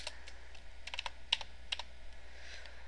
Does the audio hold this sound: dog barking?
no